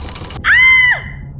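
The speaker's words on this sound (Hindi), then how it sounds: "आकांक्षा के मुंह से चीख निकल गई" A woman's sharp scream, a single sustained high cry lasting about half a second, loud and alone after a brief burst of noise, in a horror story scene where a finger gets caught in a sewing machine.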